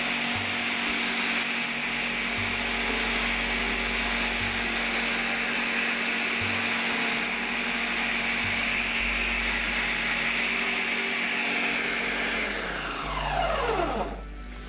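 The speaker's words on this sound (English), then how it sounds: "you're using the actual food processor attachment, that probably would just blend it real quick" A food processor blends a frozen berry smoothie with a loud, steady motor whir that holds for about twelve seconds, then winds down sharply near the end.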